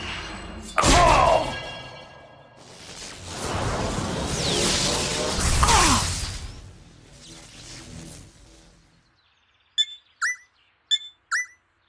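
Strike of Wrath attack effect in the Life is Strange True Colors video game: a sharp thump, then rising whooshing bursts that swell and fade, followed by short chirpy electronic blips near the end.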